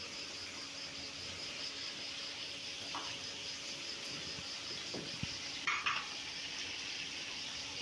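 Beef, boiled beforehand, fries in oil with ginger, garlic, onion and chili in a village kitchen, giving a steady close sizzle with faint stirring clinks and a few brief utensil knocks.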